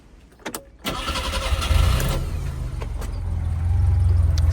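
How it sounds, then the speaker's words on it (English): Engine of a 930 car fitted with Talbot Sunbeam ignition parts being started: a few faint clicks, then a cranking catch at about one second and a steady low idle that settles and grows slightly louder. "We'll fire him up."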